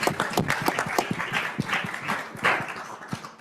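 An audience at a fireside chat breaks into sustained, dense applause, with many hands clapping steadily throughout and no talking over it.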